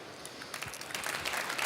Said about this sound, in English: Big applause, ladies and gentlemen, for Terry Woolard.